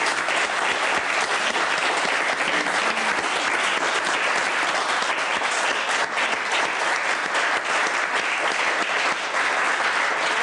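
An audience applauds to welcome guests onto a kids' cooking show set, a dense, steady, loud wash of clapping that holds for the full length without a break.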